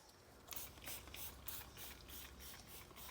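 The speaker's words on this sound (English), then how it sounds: "Spray this on nice and thick." Chemi RRR wheel cleaner sprayed onto a car wheel in repeated hissing trigger bursts, about eight evenly spaced pumps, close and clear with no talking.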